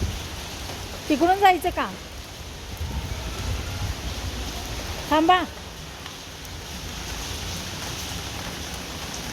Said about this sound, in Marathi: हे पहा पाऊस पावसामध्येच निघाले.